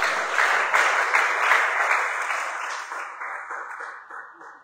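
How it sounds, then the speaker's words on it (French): Church congregation applauding together during a Sunday service, a dense wash of clapping that swells briefly then gradually fades away over several seconds. "Acclamez très fort le Seigneur."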